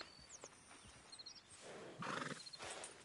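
A horse in the video game Red Dead Redemption 2 snorts and lets out a whinnying neigh amid light hoof clip-clops and faint ambient game sound, all fairly quiet.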